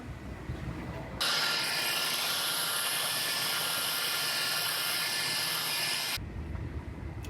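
Heat gun blowing on generic sound deadening pads for a car trunk, a steady loud rushing whoosh that switches on abruptly, runs about five seconds, then cuts off over quiet background.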